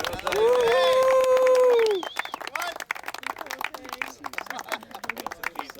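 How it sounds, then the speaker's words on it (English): Crowd applause at a Labrador event, a loud sustained tone and chatter at first, then scattered hand claps and voices continuing through the rest. "A round of applause, please, for David."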